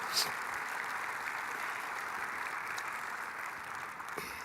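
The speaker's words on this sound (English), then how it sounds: "I'm going to ask you to please give Rosetta a huge round of applause" Faint, steady applause from a crowd, sustained clapping heard at a distance without letup.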